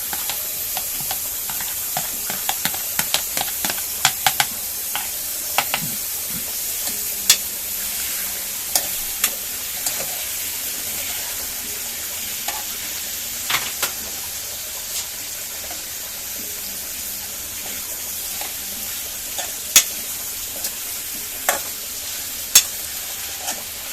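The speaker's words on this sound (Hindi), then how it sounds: "टमाटर और हरी मिर्चें, अब इसके साथ इसको भूनेंगे।" Beef sizzles steadily in a pan with tomatoes and green chilies while a utensil scrapes and taps now and then, close up, with no talking.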